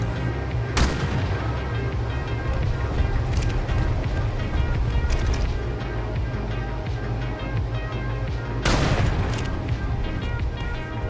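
Loud gunshots ring out in the ARK video game as creatures are shot dead, with a sharp crack near the start, another near the end and a steady rumbling din in between.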